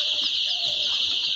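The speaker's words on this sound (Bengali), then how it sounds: "এখানে লেয়ার মোরগের বাচ্চা 4200 পিস।" A large flock of layer chicken chicks on a farm, a dense continuous chorus of high-pitched peeping close by, with no talking.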